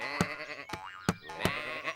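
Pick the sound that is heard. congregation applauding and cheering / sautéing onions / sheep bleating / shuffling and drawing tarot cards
sheep bleating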